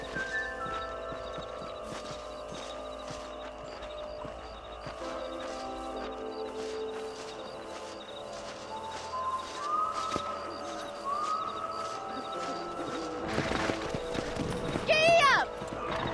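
Horse hooves clip-clop in a steady rhythmic gallop in the video game Red Dead Redemption, with tonal ambient music and brief bird-like whistles, plus a louder burst of sound near the end.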